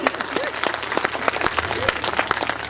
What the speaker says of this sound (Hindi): तालियां जोरदार बजाइए